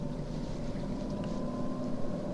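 Fiat Panda Cross TwinAir 0.9 two-cylinder engine droning steadily from inside the 2016 car while driving, a continuous low hum with road and wind noise, no talking.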